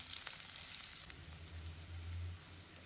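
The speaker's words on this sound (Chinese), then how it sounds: "油热之后，把葱姜蒜放入砂锅，" Scallion, ginger and garlic frying in lard and oil in a clay pot, a soft, steady sizzle with faint crackles, close and continuous with no voices.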